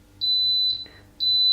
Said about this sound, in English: when your soup's ready, the soup machine will beep